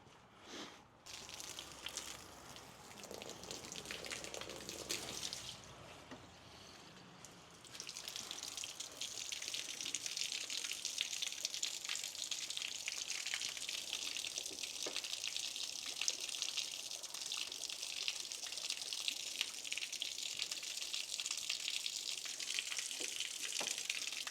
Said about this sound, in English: let's see if we can get the hose on there and flush some of this stuff out